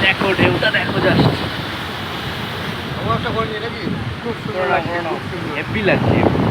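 Sea waves break and wash in at Digha beach in the early morning, a loud rolling surge with strong wind buffeting the microphone, while a person talks excitedly over it.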